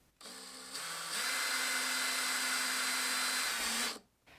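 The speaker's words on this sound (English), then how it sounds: "I'm gonna go back and drill through the inside so that I can have a fresh new hole" A power drill whirs steadily at high speed for several seconds, its pitch shifting slightly as it bores a hole through a piece of furniture, then cuts off abruptly.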